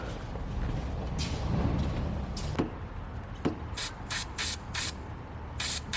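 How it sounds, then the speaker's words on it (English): A series of short hissing bursts from a lubricant spray can, several in quick succession near the end, with a couple of sharp clicks earlier over low mechanical background noise, while working on a VN Commodore ute's snapped thermostat bolt. "I reckon I'll give it a bit of a lube spray again"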